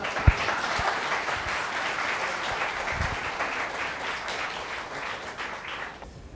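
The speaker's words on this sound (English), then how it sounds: "Come on, you need to clap." A seated audience at a cyber-policy conference panel gives a round of applause, with a few sharp individual claps early and a steady, moderately distant clapping that fades slightly toward the end.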